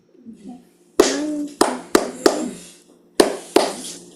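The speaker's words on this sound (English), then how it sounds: "So let's clap that out" Six sharp hand claps in a loose rhythm, grouped in threes with a pause between groups, close and loud in a quiet room.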